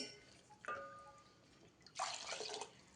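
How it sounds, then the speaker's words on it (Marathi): Water splashes and pours in a short burst into a pot of milk for rice kheer after a faint metallic clink, close by and fairly quiet. "आणि पाणी पण घालायचंय"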